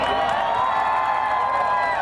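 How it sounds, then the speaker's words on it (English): A crowd cheers and applauds the winner of the South Point 400 race in Victory Lane, a loud, continuous roar of cheering and whooping with no breaks. "How about a big round of applause?"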